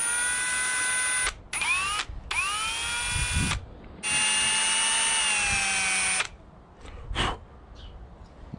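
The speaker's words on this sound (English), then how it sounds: "I probably should have started with a smaller drill piece" A power drill bores a hole for a spoiler mount in several loud, whining bursts, the pitch sagging as the bit bites, with short pauses between runs.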